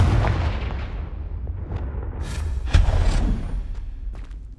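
Confringo fire spell cast in the video game Hogwarts Legacy, a heavy booming blast with a deep low thud that rumbles and decays, followed by a second sharp impact crack a couple of seconds later.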